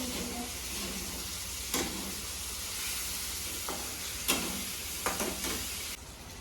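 Food roasts in a pan over a continuous close sizzle, with several sharp scraping stirs of a spoon against the pan breaking through at intervals.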